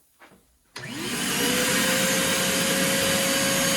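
A shop vacuum hooked to a benchtop blast cabinet switches on abruptly after a brief thump and settles into a loud, steady roaring whine with a constant high tone.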